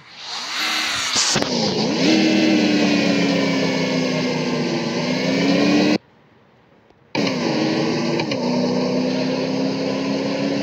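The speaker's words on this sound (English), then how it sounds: "Press the accelerator up," Car engine revving in a drag racing video game, a loud high-pitched whine that climbs, holds and dips, cutting out briefly before roaring back, with no talk.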